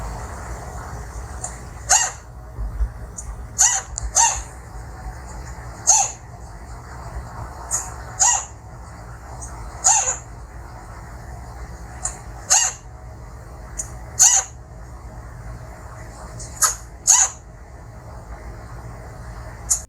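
A chinchilla hiccups in short, sharp, squeaky chirps, about a dozen irregularly spaced bursts over a quiet hissy background, close and fairly loud.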